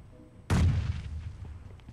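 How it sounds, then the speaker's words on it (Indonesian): A sudden heavy boom from an enemy bomb exploding in a shooter video game, one loud close blast that rolls off into a rumbling tail. "Kok ada suara bom musuh tadi?"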